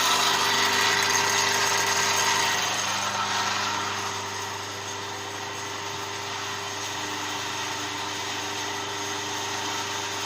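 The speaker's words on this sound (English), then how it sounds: "rated voltage, motor starts rotating" A single-phase induction motor spins with a brake drum on its shaft and no load applied, giving a steady, close hum with mechanical whir that eases slightly partway through and holds.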